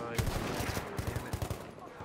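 Rapid bursts of gunfire from the Battlefield 1 video game during a sniper fight, a dense run of sharp reports at close range filling the whole moment without talk over it.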